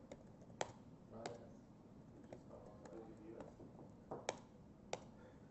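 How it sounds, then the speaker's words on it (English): Typing on a computer keyboard during a conference talk demo, irregular sharp key clicks spaced across several seconds with a couple of quick clusters, heard close over a quiet room background. "I was typing in Mandarin Chinese."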